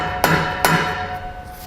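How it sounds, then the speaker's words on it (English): Two sharp taps of a plastic mallet knocking a fifth wheel installation kit part loose on a truck, spaced about half a second apart over a steady background hum. "I actually just used a plastic mallet and I just tapped it back loose."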